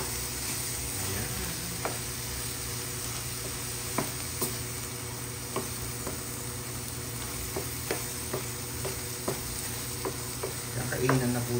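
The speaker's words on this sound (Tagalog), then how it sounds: "ihahalo ko na po ang ating itlog" Egg being stirred into sautéed bitter gourd (ampalaya) in a pan: a steady low sizzle runs throughout, with light spatula taps and scrapes at irregular intervals, close and fairly quiet, no voices.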